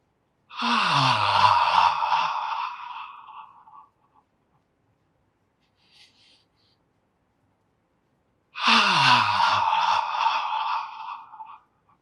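Two slow, deep breaths taken during a beginner qigong exercise, each a long audible exhale or sigh lasting several seconds, separated by a quiet pause.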